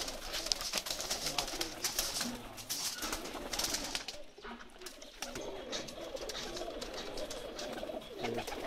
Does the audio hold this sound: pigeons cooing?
yes